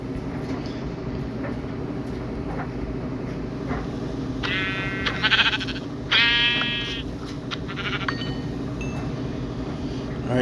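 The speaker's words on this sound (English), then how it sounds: "Sheep." Sheep in Minecraft Bedrock (Pocket Edition) give two distinct bleats midway through, close and clear over a steady low game background hum.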